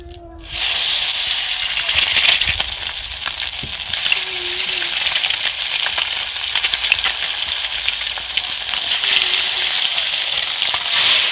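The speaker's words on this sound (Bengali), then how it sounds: "ডিম ভাজা হয়ে গেছে" Eggs frying in a pan with turmeric and chilli in a village kitchen, a loud continuous sizzle and hiss close by, with occasional stirring scrapes and no talking.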